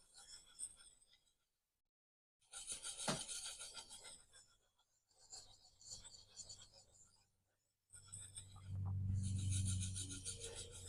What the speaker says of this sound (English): I'm rocking the knife back and forth a little bit to find that flat spot where my edge is.